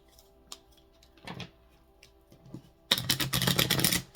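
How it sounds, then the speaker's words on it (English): A brisk flurry of tarot card riffling, dense crackling bursts after a few faint taps and rustles, loud and close. "I'm going to go ahead and do a shuffle, hard shuffle"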